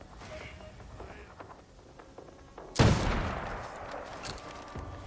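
A teppo matchlock firing a ricochet bullet in Assassin's Creed Shadows: one loud, sharp gunshot partway through, followed by a decaying rumble and faint softer game sounds around it.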